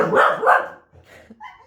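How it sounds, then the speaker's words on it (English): A pet dog barks twice in quick succession, loud and close indoors, followed by a quieter pause with soft background sounds and a short spoken word. "That's my dog"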